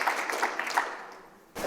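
An audience at an annual public projects meeting gives a short round of applause, moderate clapping that fades out over a second before a brief burst of room noise.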